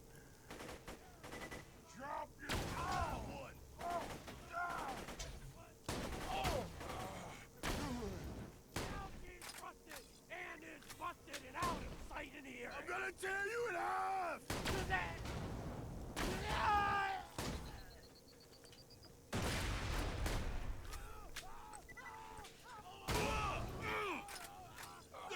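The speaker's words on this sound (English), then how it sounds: "It seems like every time we hit something with this sniper rifle," A sniper rifle fires in the video game Borderlands 2 as sharp, sudden shots ring out at irregular intervals through the game's ambience, with someone talking between and over them.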